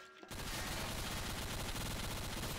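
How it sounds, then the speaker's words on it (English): Rapid, continuous bursts of automatic gunfire from a video game, loud and dense, starting abruptly after a brief quiet moment and rattling on without pause. "I hear gunfire!"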